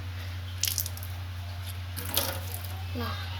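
Water runs steadily from a tap, a constant close hiss with a few splashy bursts, while a voice speaks briefly over it.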